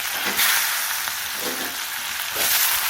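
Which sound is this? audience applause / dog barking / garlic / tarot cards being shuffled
garlic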